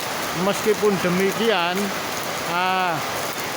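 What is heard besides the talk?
heavy rain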